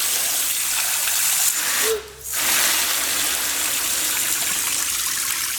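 A garden hose pours water into a container used for soaking dirty steel and neoprene weights, producing a steady, close, broadband hiss that dips and briefly cuts out near the middle before resuming evenly.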